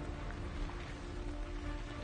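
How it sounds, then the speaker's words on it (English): Steady, dense rain falls across a rainforest during a wilderness survival outing, a continuous close hiss of drops with no pauses and no voices. "It's raining and it's cold"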